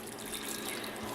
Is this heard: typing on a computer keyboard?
no